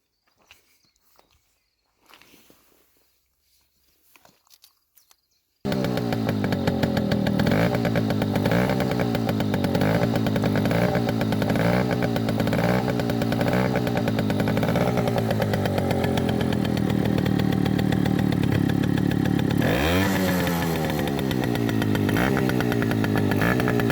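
A Peugeot moped with its original exhaust but the baffle removed. After a few quiet handling noises it starts and runs alone with a loud, raspy two-stroke buzz, revving up sharply near the end.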